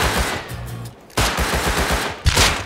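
Rapid bursts of automatic gunfire from Rust, loud and close, with a dense run of shots, a short lull, then another heavy volley near the end.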